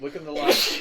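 A single sneeze bursts out mid-conversation, sharp and close, with people talking just before it.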